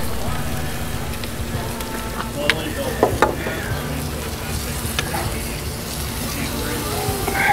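Tri-tip sizzles fat side down on a grill for Santa Maria style barbecue, a steady crackling hiss with scattered pops and a few sharper ticks, heard close with no talking.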